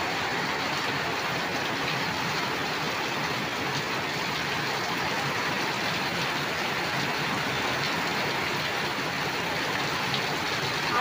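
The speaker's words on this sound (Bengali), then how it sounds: "দেখুন বন্ধুরা, কি পরিমাণ বৃষ্টি হচ্ছে। বৃষ্টির জোরটা একবার দেখুন" Heavy rain pours onto a flooded village road, a dense, steady hiss of falling water, moderately loud and unbroken for the whole stretch, with no speech.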